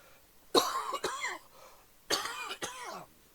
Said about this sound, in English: apologies for this cough